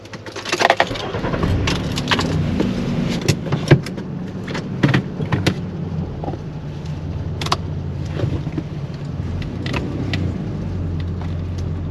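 A car driving slowly on roads near Flagstaff, Arizona, with a continuous low engine and road rumble inside the cabin, punctuated by scattered knocks and rattles from bumps, and no one speaking.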